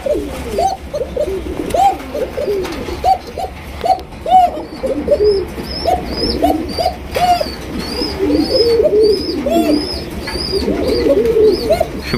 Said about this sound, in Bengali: এখানে দেখতে পাচ্ছেন এক জোড়া ককা কবুতর মাশাআল্লাহ, খুবই ডাকাডাকি করতেছে